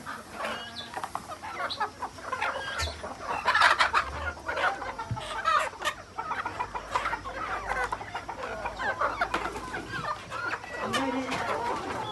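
Several free-range country chickens on a small farm cluck and call over one another at feeding time in a steady, busy chorus, close by, with occasional louder squawks and no talking.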